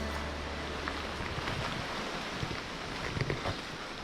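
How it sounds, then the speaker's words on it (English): Steady wind roars across a foggy, rainy hilltop on St Vincent in the Caribbean, a constant broadband rush with occasional gusty swells and no voices. "It's very foggy, very windy, very rainy."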